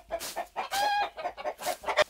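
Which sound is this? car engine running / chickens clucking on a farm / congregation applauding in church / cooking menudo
chickens clucking on a farm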